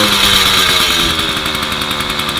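A motorized bicycle kit engine runs after a pedal start, a loud, close, buzzing two-stroke rattle with a fast steady pulse and slight throttle, heard alone.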